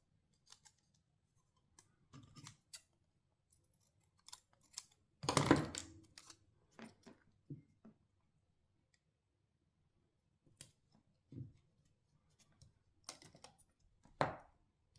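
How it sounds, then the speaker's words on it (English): Scissors snipping Kapton tape to size during a console mod chip install, a few close, crisp cuts and small clicks spread out over quiet stretches. "So just cut that into the perfect size and lay it down."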